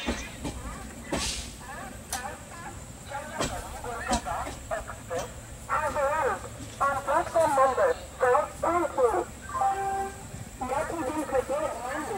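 Jammu Tawi Express train running, steady rumble of the moving carriages heard from inside, with rhythmic clatter and squeals, while people talk and chatter nearby over the noise.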